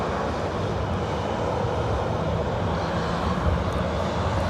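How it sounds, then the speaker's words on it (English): Southwest Airlines Boeing 737-700 taking off from LAX, a loud, continuous broadband jet engine roar that holds steady and swells slightly throughout, with no talk over it. "Southwest Airlines Flight 5286 heading to Denver on a"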